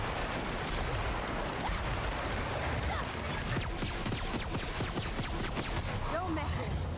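Bursts of gunfire in The Outer Worlds, a dense run of rapid shots layered over game ambience, with voices talking throughout.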